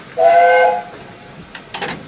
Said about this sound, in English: This is the whistle out of control.